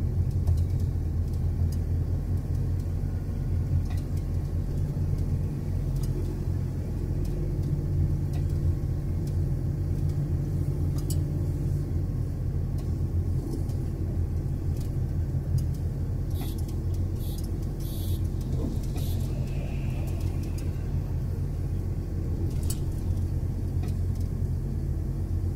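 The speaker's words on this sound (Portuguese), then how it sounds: "Descendo aqui sem usar freio de pedal, tô só no freio motor, segundo estágio acionado" Mercedes truck descending a highway on second-stage engine braking, a steady low rumble and drone of engine and road noise throughout, near and continuous with no talk.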